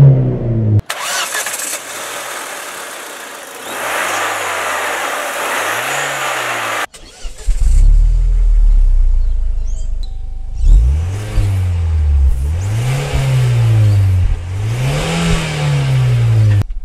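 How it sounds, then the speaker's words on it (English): The turbocharged engine of a 1999 Volvo S40 Turbo cranks and fires, then settles into an idle. It is revved in several rising and falling bursts, heard close and loud, with no talk. "Let me start the car and quickly show you the engine bay,"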